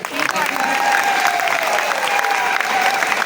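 A live audience at a New Year's Eve event bursts into sustained, dense applause, loud and close, with a faint voice or tone riding over the clapping.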